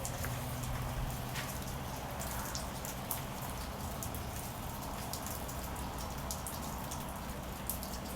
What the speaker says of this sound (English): A little rainy today.